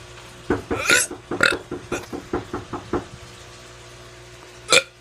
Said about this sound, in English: I'm going to be doing some burps